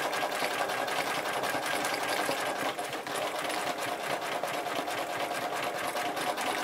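A sewing machine runs steadily and continuously, layering thread over thread for a thread-scribbling embroidery design, loud and close with a dense mechanical whir and no speech.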